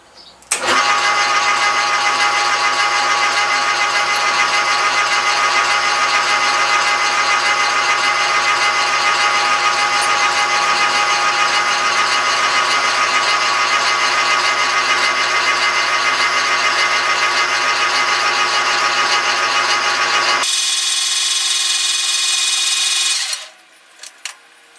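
Center drill running on a lathe while preparing a part for a Honda PA50 moped, a loud steady machine whine and hum held for about twenty seconds, then cutting off abruptly with brief clatter as it winds down.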